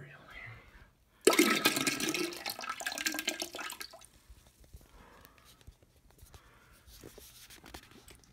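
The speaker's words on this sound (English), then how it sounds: "Don't flush the spoon, but we're gonna flush the cereal." A toilet flushes down some leftover cereal: a sudden loud rush of swirling water lasts a few seconds, then fades into gurgling and the trickle of the refilling tank.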